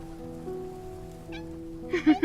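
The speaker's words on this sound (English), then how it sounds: "It's the kitten from before." A kitten in the rain in Love and Deepspace gives a couple of short, close meows near the end, after a low steady hum and a faint earlier chirp.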